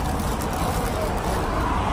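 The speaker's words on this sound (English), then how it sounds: "the noise level at Hot Dog Heaven with all the cars driving by" Street traffic rolls past outside Hot Dog Heaven in Chicago, a steady, close, broadband roar of passing cars with no distinct breaks.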